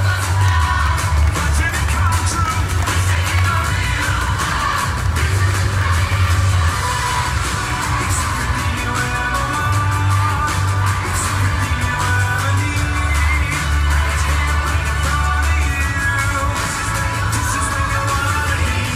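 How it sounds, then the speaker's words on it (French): An audience at a company awards ceremony applauds bonus winners, with sustained loud clapping and occasional whoops filling the room. "on peut les applaudir bien fort"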